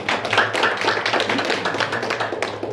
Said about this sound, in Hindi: इनको तालियों से अभिनंदन करेंगे।